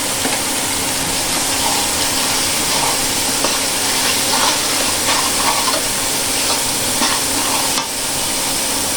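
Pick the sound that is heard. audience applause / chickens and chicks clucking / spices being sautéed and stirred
spices being sautéed and stirred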